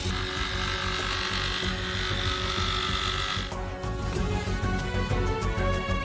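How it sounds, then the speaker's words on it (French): A jigsaw buzzes steadily, then shifts to a harsher, rattling cut partway through as it saws plastic pipe, continuous and close with no talking. "Et sciez le tuyau avec une scie sauteuse."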